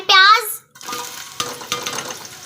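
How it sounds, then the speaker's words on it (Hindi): Chopped onions fry in a pan for mutton aloo gosht (goat meat with potatoes), a steady broadband sizzle following a brief high child-like vocal squeal at the start, with occasional stirring knocks. "अभी हम इसको थोड़ा सा करेंगे फ्राई"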